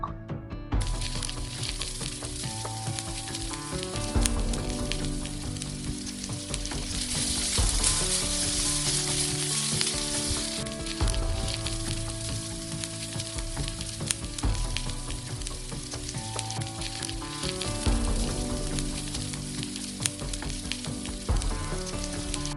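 Pancetta fries in its own fat in a pan over a campfire in the woods, making a continuous loud crackling sizzle with bursts of spitting and popping throughout.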